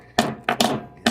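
Metal tapping on a small melted metal button from a copper, silver and niobium melt, four sharp knocks spaced irregularly, close and fairly loud with no talking.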